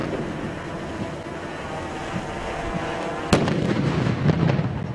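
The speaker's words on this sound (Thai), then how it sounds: "เมื่อทุกอย่างพร้อมหน้าชุดก็จะสั่งระเบิดประตู" A sudden loud explosive blast ends a quiet stretch of ambient noise as a door is breached in a naval special warfare team's military demonstration. Debris and a noisy rumbling aftermath follow the blast.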